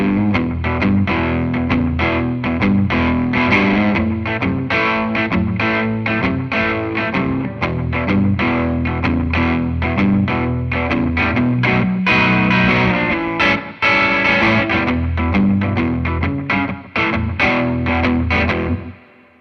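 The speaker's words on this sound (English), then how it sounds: "if I go to the bridge pickup and put some slap back on instead of that longer delay and play" Electric guitar on the bridge pickup with slapback delay plays driving rock and roll, loud and continuous with sharp picked attacks and quick echoes.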